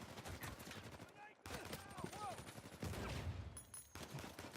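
Gunfire in the video game Uncharted 4, with rapid bursts of shots and automatic fire crackling continuously, briefly dropping out before resuming, close and busy.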